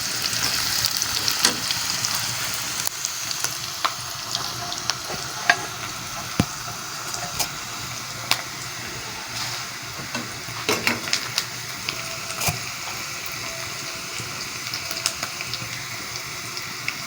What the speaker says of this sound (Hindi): इसमें प्याज डालेंगे, ब्राउन हो जाएंगे प्याज